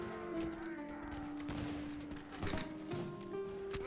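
Musket volleys crackle from soldiers in a Prussian-era battle video game, with scattered shots layered over a steady din of battle sound and musical tones, moderately distant and continuous.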